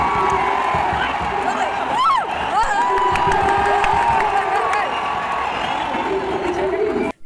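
A stadium crowd roars, cheers and claps before a Kerala Blasters versus FC Goa ISL football match at Kaloor Stadium, a dense, continuous din with whistles, whoops and rising shouts throughout.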